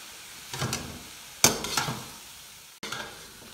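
Spatula stirring and scraping chicken filling mixed with chili sauce in a pan, heard as three separate bursts of scraping and light sizzle with short pauses between them and no talk.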